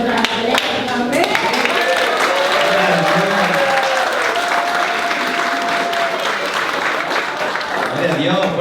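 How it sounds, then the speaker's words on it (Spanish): A church congregation claps loudly for children, with steady, dense applause filling the whole stretch while a voice speaks over it and a few cheers rise from the crowd. "fuerte palmas a estos niños"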